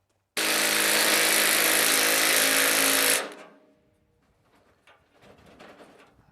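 Power tool fastening a bolt on an IBC tote being repurposed for firewood: one loud, steady burst of motor whine lasting about three seconds, then quiet background rustles and faint sounds.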